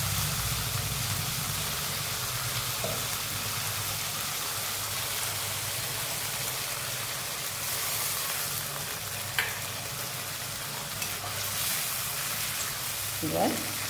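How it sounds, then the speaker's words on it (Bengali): Garlic and tomato fry steadily in a pan for a fish curry, a soft continuous sizzle with faint stirring scrapes and a few brief clicks throughout. "এবার 2 মিনিট একটু ভেজে নিই। রসুন এবং টমেটো কাঁচা গন্ধটা যাতে চলে যায়।"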